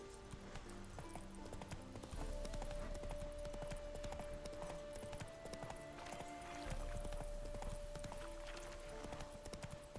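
Roach, a horse in The Witcher 3, clip-clops steadily at a gallop across game terrain, hooves drumming continuously under a sustained musical tone and game ambience, with a brief whinny-like note.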